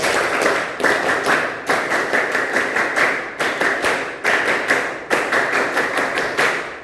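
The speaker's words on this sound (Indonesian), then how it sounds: "kita tepuk pramuka 2 kali. 2 kali tepuk pramuka." Students in a school scout session perform the rhythmic scout clap in unison, loud, sharp bursts of clapping grouped into repeated patterned phrases with short pauses between sets, heard clearly without talk.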